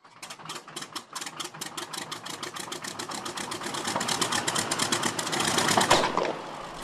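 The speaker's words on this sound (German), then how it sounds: "So klingt das älteste Passagierflugzeug der Welt" Rapid, rhythmic pulsing of a Junkers Ju 52's three radial engines builds in loudness and speed as they run up, then cuts off abruptly.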